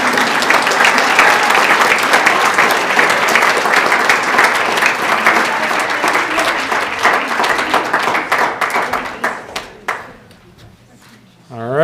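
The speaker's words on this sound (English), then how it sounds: "A round of applause for our Above and Beyond winner" Sustained applause from an audience honoring an Above and Beyond award winner at a school district awards ceremony, dense and steady clapping that thins into scattered claps and fades toward the end.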